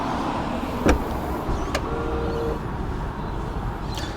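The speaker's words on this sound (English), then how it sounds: "Now closing it up, you do get a little button here that does allow you to activate that automatic tailgate" Powered tailgate of a 2016 Land Rover Discovery Sport TD4 180 HSE closing, with a soft motor whine running steadily under one or two sharp mechanical clicks and a faint latch, heard close up without talk.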